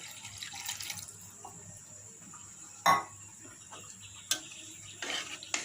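Water pours into a cooking pot of marinated fish on a home stove, a light, splashing trickle broken by a few sharp clinks and taps of the pot and utensils.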